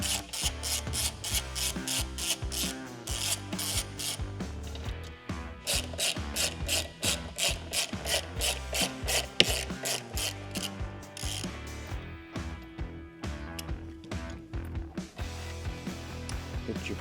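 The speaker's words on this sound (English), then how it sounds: "With your T45, go ahead again, remove the 2 screws." Ratchet with a T45 bit backing out two screws on a Harley-Davidson, rapid close clicking in sustained bursts with a brief pause between, loud and alone.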